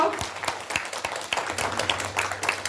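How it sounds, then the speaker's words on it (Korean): An audience at a Korea National Open University Incheon orientation for new and transfer students claps in a faint, scattered patter of separate hand claps rather than a full roar. "여러분 박수 한번 다시 주세요"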